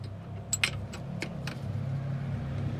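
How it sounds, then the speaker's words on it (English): ATVs run in the background as a steady low engine rumble throughout, with a few brief light clinks near the start; no one speaks. "So we got some ATVs in the background."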